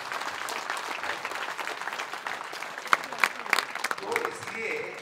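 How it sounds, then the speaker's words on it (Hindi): Applause breaks out for the chairman at a political rally in Laxmangarh, a dense crowd clapping steadily for about five seconds with a few louder claps and faint voices underneath. "तालियां सभापति महोदय के लिए।"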